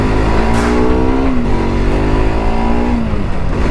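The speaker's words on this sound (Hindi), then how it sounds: "तो अभी इसको थोड़ा सा खींच के देखते हैं, 2016 मॉडल AS200 बजाज का कैसी भागती है।" A 2016 Bajaj Pulsar AS200 motorcycle, a 24.5 BHP bike without a slipper clutch, accelerates hard with a loud, rising engine whine that climbs through gear changes, heard close with steady wind noise.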